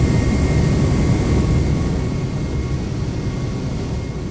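An Airbus jet airliner with IAE engines roars past in a video game with a steady, broad engine rumble and a faint high whine, loud and continuous, slowly easing off toward the end.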